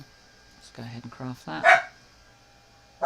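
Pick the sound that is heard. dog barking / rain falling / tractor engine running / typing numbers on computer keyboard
dog barking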